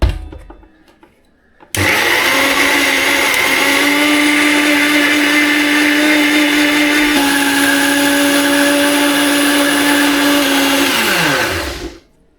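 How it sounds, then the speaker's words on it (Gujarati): A mixer grinder blends spinach and two green chillies into a dry paste, a loud steady whirring motor that starts abruptly after a quiet moment, holds a constant high whine for about ten seconds, then winds down. "અને મિક્સરમાં પીસાઈ પણ મસ્ત થઈ ગયું"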